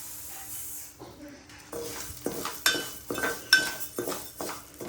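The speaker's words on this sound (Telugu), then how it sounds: "ఒక పాన్ పెట్టుకుని అది వేడెక్కిన తర్వాత కొద్దిగా నెయ్యి వేయాలండి ఆ నెయ్యి కూడా వేడెక్కిన తర్వాత ఈ రాగులు వేసేసుకోవాలండి" Finger millet roasting in hot ghee in a pan, a soft steady hiss with repeated scraping and clinking strokes of a spoon against the metal pan, growing louder and more frequent toward the end.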